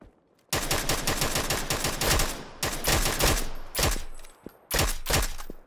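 Rapid automatic gunfire in a video game battle, several sustained bursts of loud, close shots with brief pauses between them, no talking.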